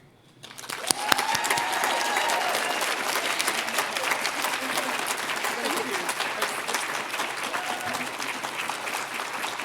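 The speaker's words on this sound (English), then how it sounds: "we're waiting for the applause to subside" An audience at the Maine Women's Hall of Fame induction ceremony breaks into applause that swells within a second and holds as dense, sustained clapping to the end.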